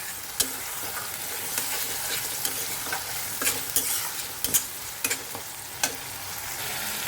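A paste of onion, garlic, ginger and cumin stir-fries in a pan, a continuous close sizzle broken by repeated sharp scrapes and taps of a spoon.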